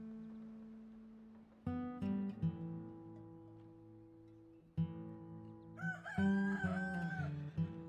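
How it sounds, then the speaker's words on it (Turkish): A rooster crowing in the video game Red Dead Redemption 2, several loud drawn-out crows close by, with clucking and other farmyard game sounds between them. "Erken öten horozu keserler bizim köyde."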